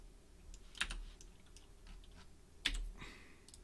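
Computer keys are pressed in a quiet room while working in design software. Two separate crisp clicks stand out against a faint background hum.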